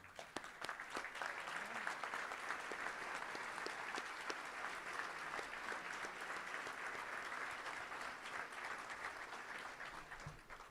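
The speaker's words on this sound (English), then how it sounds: "let's give them a round of applause" A luncheon crowd gives a sustained round of applause for former Razorback football players and coaches standing up, with steady dense clapping and a few sharper individual claps throughout. The clapping comes across as somewhat distant.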